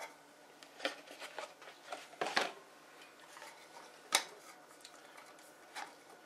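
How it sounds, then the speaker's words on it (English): Lids screwed partway onto glass jars of ginger beer bug, giving faint scattered clinks and scrapes of metal on glass at close range, a few sharper taps standing out against a quiet room. "I'm just putting these lids on"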